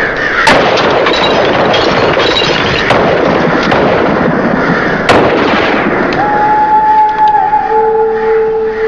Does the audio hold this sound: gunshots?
yes